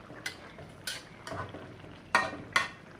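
Snakehead fish pieces go into a bean curry frying in a pan, giving several sharp bursts of sizzling and clattering stirring, spaced irregularly, close and fairly quiet, with no talking.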